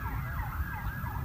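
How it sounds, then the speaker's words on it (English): Emergency vehicle sirens, probably fire trucks heading toward Brighton or Hove after a major incident, wail faint and distant in a brief rising and falling sweep. "You can hear sirens to the right, which are probably fire trucks coming in for Brighton or Hove."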